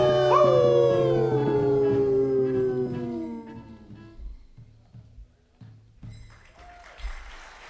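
A wolf howls in a long, loud, sliding wail that slowly falls in pitch and fades, followed by a few short soft thumps and faint yips in the quiet afterward.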